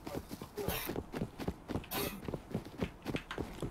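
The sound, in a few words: footsteps in the video game Rust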